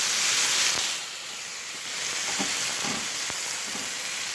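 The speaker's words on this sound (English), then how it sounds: "Gonna throw in our mushrooms," Mushrooms and potatoes sizzle in a frying pan with a steady, close hiss, a few faint taps and stirring sounds, and no talk.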